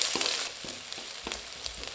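Onion and garlic sautéing in a pan for vegetable fried rice, a steady close sizzle broken by a few clinks and scrapes of stirring.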